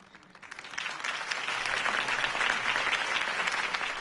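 Steady applause from a large crowd in Batman: The Telltale Series swells in after a quiet start and keeps going, dense clapping filling the space without letting up.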